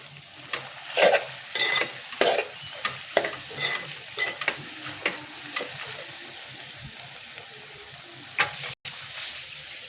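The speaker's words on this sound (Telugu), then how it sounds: "వంకాయ మొత్తం నూనెలో ఉండి మధ్యలో కొంచెం అంతా పసుపు కారం వేసుకుందాం" Brinjal frying in oil with turmeric and chili powder, stirred with a spoon; a steady sizzle runs under repeated scraping strokes against the pan, fairly close and moderately loud.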